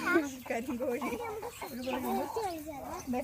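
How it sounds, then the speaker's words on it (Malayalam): A black chicken clucks repeatedly up close, warbling and rising in pitch across several seconds, with a steady background hum. "കരിങ്കോഴി"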